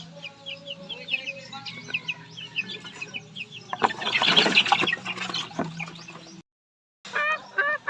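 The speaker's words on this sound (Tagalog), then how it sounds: "ayan yun yung mga sisiw natin medyo mailap sila" Young chicks in a poultry pen chirping, with quick high peeps repeated all through, a louder burst of mixed clucking and rustling partway in, then a short gap before the peeping starts again.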